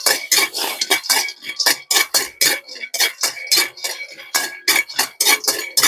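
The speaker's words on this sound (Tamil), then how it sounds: "கச்சான் முத்து நல்லா வறுபடணும்" A utensil scrapes and clinks rapidly against a pan while peanuts dry-roast, a close, bright, metallic rhythm of repeated strokes with no talking.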